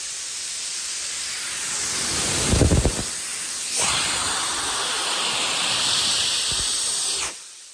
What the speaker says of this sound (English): I'm just gonna slide the valve here.